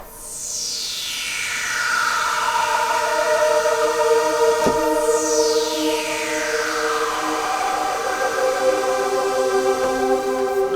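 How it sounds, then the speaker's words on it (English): A bright synth pad from the Xpand!2 preset 16 Bright HPF Sweep plays sustained chords while a filter sweep repeatedly glides from high to low, swelling in softly and holding steady, with one sharp click midway. "and it's number 16 Bright HPF Sweep"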